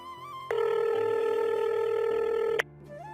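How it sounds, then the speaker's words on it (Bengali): An outgoing phone call rings on the line, a single sustained ringback tone lasting about two seconds and then cutting off abruptly. "কল হচ্ছে"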